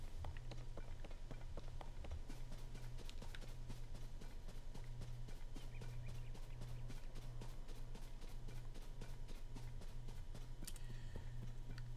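Horse hooves clip-clop in the video game Zelda: Tears of the Kingdom, a fast, even run of soft beats over a steady low background hum.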